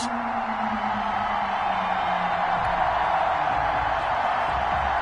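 Home crowd at Hard Rock Stadium in Miami before a Dolphins–Bills NFL game, a steady loud roar of cheering and whooping spread across the stands, constant through the stretch with no clear talk over it.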